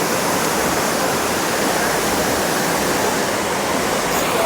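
Rushing waterfall pouring steadily, a dense, loud roar of falling water filling the whole stretch without pause, recorded close up from a pole set in the cascade.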